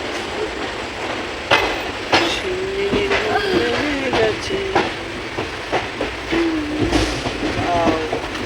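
A moving train rattles along the tracks, heard from onboard with a steady rumble and rhythmic clicks of the wheels over the rail joints. Voices talk intermittently over the noise.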